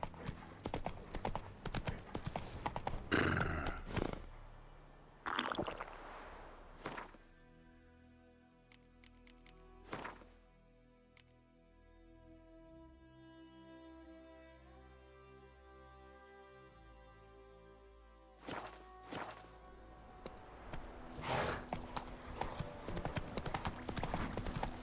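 Horse hooves clip-clop in The Witcher 3 video game, with bursts of galloping at the start and end around a quieter middle stretch that carries a sustained musical tone, and a faint whinny.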